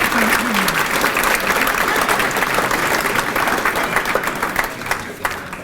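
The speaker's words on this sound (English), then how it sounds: "Nice round of applause for everyone on the committee" Sustained applause from a crowd at a sports hall of fame ceremony honoring an organizing committee, dense and steady clapping throughout, tapering slightly toward the end.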